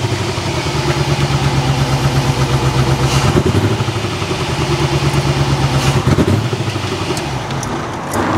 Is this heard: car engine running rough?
yes